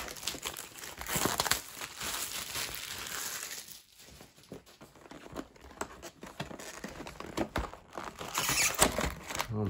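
Plastic shrink wrap on a Kamigawa Neon Dynasty booster box crinkles and tears as it is pulled open, quiet close rustling bursts with a short pause midway.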